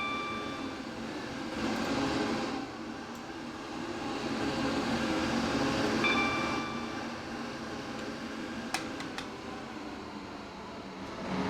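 A train running in the Roblox game Stepford County Railways, a soft steady rumble of motion with gentle swells, a couple of faint high chime-like tones and a brief click, quiet and without talking.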